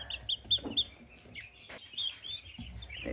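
Baby turkey poults and chicks in a brooder give soft, high chirps and peeps in short scattered bursts, faint and close, with light rustling underneath.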